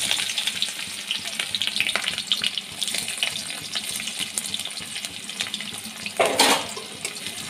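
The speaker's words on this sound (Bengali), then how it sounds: "তেল গরম হয়ে গেছে, দিয়ে দেবো একটা তেজপাতা, দিয়ে দেবো পেঁয়াজ কুচি" Chopped onion and a bay leaf fry in hot oil, giving a steady, fairly quiet hiss and crackle with a short louder sizzle burst near the end.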